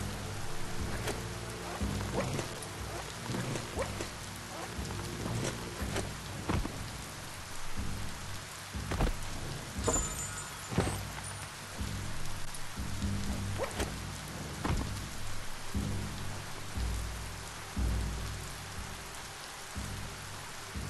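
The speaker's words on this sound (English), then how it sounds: "Just walk between the raindrops, right?" Steady rain patters on surfaces in the video game Biomutant, a continuous soft hiss with occasional low rumbles of distant thunder rolling underneath, no voices.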